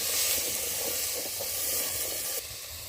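Bitter gourd and potato curry cooks down with spices in hot oil in a village kitchen, a loud, continuous hissing sizzle with soft stirring, dropping in level slightly near the end of the short stretch; no speech.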